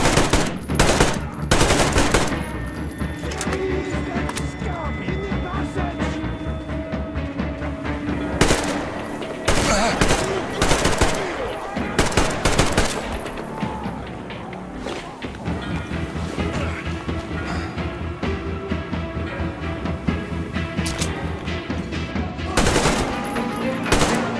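Gunfire from Metro Exodus, a shooter video game: repeated bursts of machine-gun fire, loud and close, broken by short pauses, with clattering impacts scattered between the volleys.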